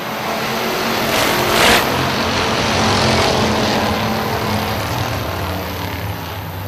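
Race cars at a racing event roar together after the green flag, a dense, loud, continuous engine wash that swells slightly and then holds steady, close to the listener.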